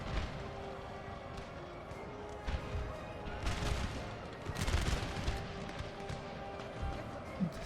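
Scattered musket volleys crack and rattle across a battlefield in Napoleon: Total War, with several louder bursts and distant shots under battle ambience.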